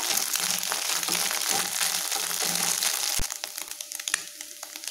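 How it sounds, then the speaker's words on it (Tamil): An egg fry mixture sautéing in a pan with urad dal, a close, dense crackle and sizzle with scraping stirs, thinning into sparser pops and a few sharp ticks toward the end. "பார்த்தீங்கன்னா சவுண்டு படப்பட்டங்குது பாருங்கள்"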